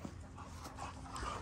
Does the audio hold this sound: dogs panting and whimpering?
yes